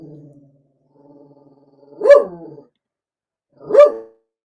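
A dog gives two loud, separate barks about two seconds apart, close to the listener, with a quieter low growl or whine before them and no talk.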